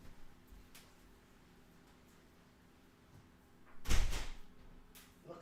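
A back door is pushed shut indoors, giving one loud thud with a short rattle partway through, against faint room noise and rain-like hiss.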